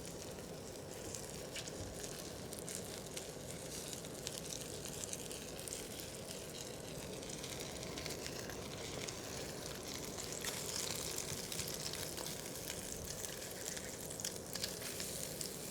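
Korean fish omelette parcels of egg sizzle and crackle steadily in a hot pan turned up to high heat, a dense continuous fry with soft popping, fairly quiet and with no talk.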